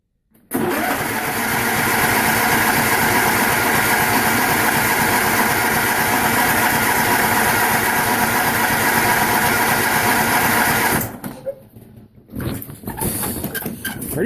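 A John Deere 210 garden tractor engine cold-starts quickly and settles into a loud, steady, close-up idle. It cuts out briefly near the end, then runs again.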